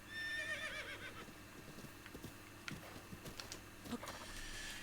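A horse whinnies in the video game Breath of the Wild, a high wavering neigh at the start followed by snorts and soft hoof clops, faint and fairly close, with no talking.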